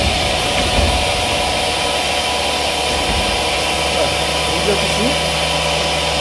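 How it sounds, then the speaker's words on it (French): A VPS 2241 VR E panel saw blade spins up and runs with a steady motor hum and broadband whir, continuous at close range while a voice speaks briefly over it. "Donc je vais démarrer la lame."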